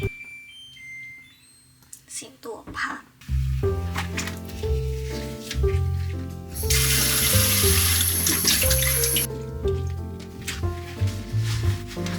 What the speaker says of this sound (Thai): ต่อให้มันจะเป็น พลาสติกนะคะ เราก็ต้อง ล้างก่อน